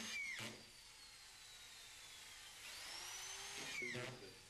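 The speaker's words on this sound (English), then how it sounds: "Fermacell can be fixed to studs with Fermacell cross-slot screws" Power screwdriver driving cross-slot screws into Fermacell gypsum fibre boards, two brief whining bursts of the motor spinning up a few seconds apart, faint and quiet.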